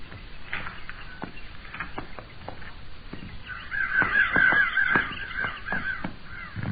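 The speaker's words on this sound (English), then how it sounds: "And crows, we flushed back there and went back to eating again" Crows caw repeatedly outdoors, harsh calls scattered at an irregular rhythm and growing louder and denser midway before easing off.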